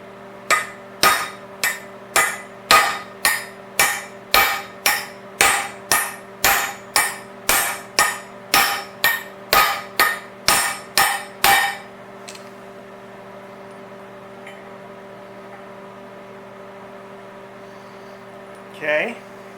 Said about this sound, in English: Maybe we should just hammer them in.